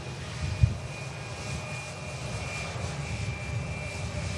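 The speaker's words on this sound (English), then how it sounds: "I'm not sure if we're going to get a visual of that Beluga aircraft." An Airbus Beluga cargo aircraft flying over near Manchester Airport, a steady distant engine roar holding for several seconds with a brief low thump early on, no talking.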